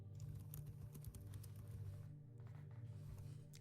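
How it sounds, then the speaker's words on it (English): Fast, furious typing on a computer keyboard clatters continuously in dense rapid keystrokes, close and steady, over a low background hum, with no talk. "I hear furious typing."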